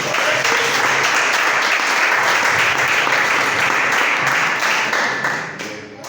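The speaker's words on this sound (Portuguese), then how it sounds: "Palmas para Jesus." Sustained applause from a church congregation at a worship service, loud and dense throughout, tapering off near the end.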